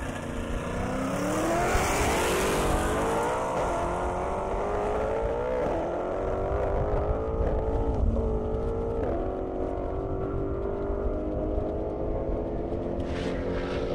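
Ford Mustang GT500 race car of about 1,200 horsepower launching at an airstrip drag race: a loud, sustained engine roar with rising and shifting pitch, close at first and continuous over the whole stretch, with no speech.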